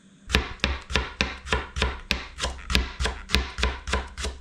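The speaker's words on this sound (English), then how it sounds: "starting with chopping these leeks" Leeks chopped with a knife on a board, about a dozen sharp, evenly spaced cuts in a quick steady rhythm, close and loud with no talk.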